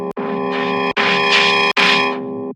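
Buzzy synthesized notes of a dubstep build-up tease play in three bursts with short gaps, the tone opening up as a filter sweeps brighter.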